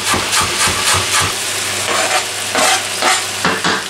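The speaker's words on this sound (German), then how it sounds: "während das Fleisch brutzelt" Meat fries and sizzles loudly in a pan, with a steady hiss broken by repeated scraping stirs of a utensil, close up and with no talk.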